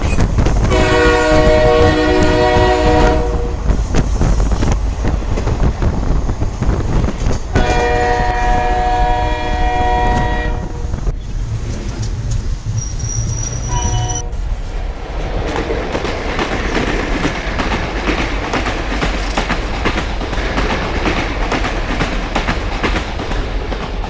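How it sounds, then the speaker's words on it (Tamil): A Sabarimala pilgrimage passenger train at a station sounds long, loud horn blasts near the start, then heavy rumbling and rail clatter as the carriages roll past close by. "நம்ம கிளம்ப போகிற ட்ரெயின் வந்து இதுதான்."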